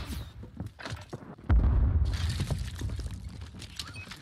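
An explosive charge launched in Call of Duty MW3: a sudden heavy thud hits partway through, followed by a sustained rushing roar and debris-like crackle, with faint game noise and voices before it.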